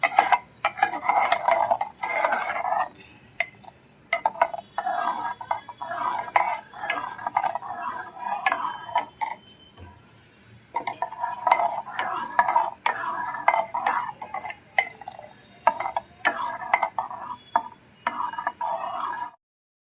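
A spoon stirs buttermilk in a metal pot over the heat, a busy run of scraping, clinking and knocking strokes against the pot's sides, with a brief quiet pause in the middle.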